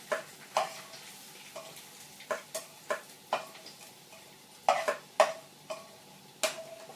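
Onions fry in a pan with a little oil, giving scattered crackles and sharp pops over a faint sizzle, close by and irregular.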